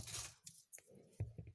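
Garlic cloves being cut by hand in a home kitchen, giving a few quick, close crunchy slicing snips and soft knocks in an irregular rhythm, with no talking.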